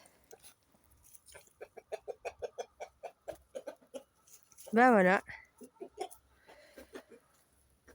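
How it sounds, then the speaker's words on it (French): A rooster on a small farm clucks in a rapid run of short, close clucks, then gives a loud drawn-out call, with a brief spoken comment near the end. "C'est un coq"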